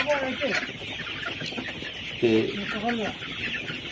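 Layer pullet chickens about 60 days old, Hisex Brown, clucking on a poultry farm; several short close clucks over a steady background hum, with a voice speaking at times.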